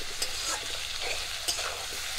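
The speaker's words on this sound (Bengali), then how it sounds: "পেঁয়াজ আর টমেটো সব কিছু একসঙ্গে ভেজে নেব" Chopped onion and tomato fry together in a pan, giving a soft steady sizzle with faint scrapes and clicks as the mixture is stirred, close and quiet with no talk.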